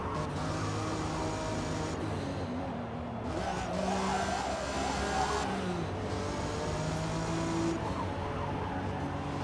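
Racing car engines in Forza Motorsport droning steadily, with sustained revving tones that rise and fall and a continuous loud hum throughout, no one talking.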